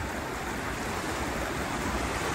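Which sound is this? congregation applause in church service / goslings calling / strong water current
strong water current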